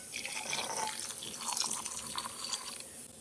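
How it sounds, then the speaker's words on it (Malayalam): Two cups of water poured into a pressure cooker over salted soup ingredients, a soft continuous splashing trickle at moderate distance that runs unbroken for a few seconds before easing off. "ആവശ്യത്തിന് ഉപ്പും ചേർത്തതിന് ശേഷം അതിലേക്ക് 2 കപ്പ് വെള്ളം ഒഴിക്കുക."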